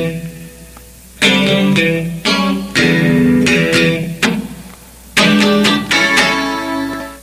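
Funk guitar part played slowly: chords ring out in separate strums with pauses between them, close and clear, with no talking.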